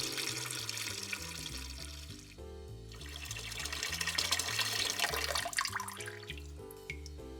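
Cold tap water runs into a kitchen sink at a steady rush, layered under background music with no talking.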